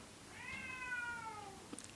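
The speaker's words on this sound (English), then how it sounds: "And the cats want their dinner." A cat gives a single drawn-out, rising and falling meow at close range, wanting its dinner, over a quiet indoor background.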